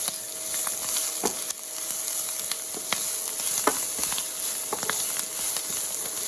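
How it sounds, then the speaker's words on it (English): Cauliflower and broccoli rabe sauté in a pan seasoned with pink Himalayan salt, giving a steady close sizzle broken by scattered small pops and crackles, with no talking. "I'm just going to saute this for a minute and then we're done."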